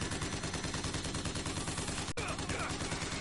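Dense, continuous gunfire in the video game BioShock Infinite fills the clip, loud and harsh like rapid automatic bursts, with a sharp cut partway through.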